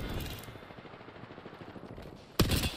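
Gunfire in Apex Legends: a burst of rapid shots fades into quieter background game noise, then a sudden loud shot or impact cuts in near the end.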